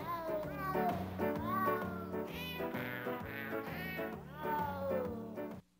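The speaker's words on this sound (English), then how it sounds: "It's really the meows of nine cat recording artists" Cat meows are arranged into a melody over a musical backing, a string of pitched mews rising and falling in rhythm, close and clear.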